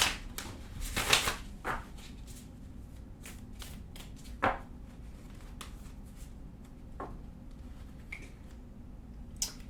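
Tarot cards being shuffled on a table, a close run of riffling flicks and soft slaps, with a dense burst at the start and scattered card snaps following, no talking.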